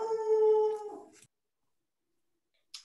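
A dog lets out a single close, wavering howl that fades into a soft whimper. Silence follows, then a faint short sound at the very end.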